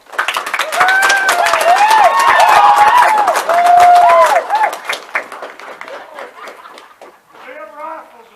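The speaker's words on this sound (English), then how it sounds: "Give him a round of applause, please" Audience applause at a Battle of Brierfield reenactment event, a crowd clapping steadily for several seconds, loud and sustained, then thinning out with scattered voices and a brief tonal sound at the end.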